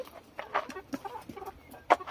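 Hens cluck softly and irregularly nearby, a scattering of short murmuring calls with one louder cluck near the end.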